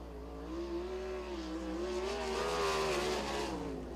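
A sprint race car, number 69 from Spring Grove, laps the dirt oval at Lincoln Speedway during PA Speedweek, its engine a loud sustained drone that rises and wavers in pitch as it runs past, heard alone.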